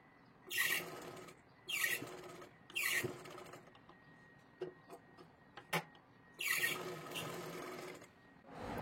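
A sewing machine stitches a katori blouse in short bursts of rapid clatter, several runs separated by pauses and small handling clicks, close up with no talk.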